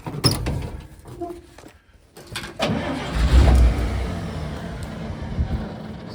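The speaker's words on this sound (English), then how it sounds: "we're gonna try starting it with some brake clean" A 1955 International R160 dump truck engine cranks and catches on brake cleaner, with a clunk and a short pause before a rough, loud attempt at running that holds at a steady drone; no talking.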